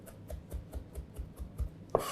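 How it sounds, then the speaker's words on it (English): A sharp knife chops a mix of fresh parsley and coriander on a board in a steady, even rhythm of close taps, about nine strokes, then a brief louder knock at the end. "Like before, chopping through."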